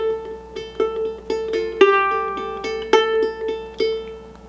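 Solo ukulele picks out the opening bar of the St James Infirmary melody, with single plucked notes and a few strummed chords ringing close and clear in a slow, steady rhythm.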